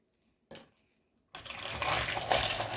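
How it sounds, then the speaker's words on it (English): Doughnut batter made with farmer cheese and baking powder being whisked in a bowl: a brief clatter, a pause, then steady, fairly loud continuous scraping and rattling that builds and carries on alone. "now we're going to whisk it or mix this"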